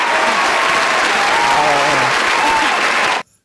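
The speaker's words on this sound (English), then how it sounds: "Let's give her applause real quick." Loud, steady audience applause filling a live podcast interview session, with a voice faintly audible underneath, running for about three seconds before cutting off abruptly into silence.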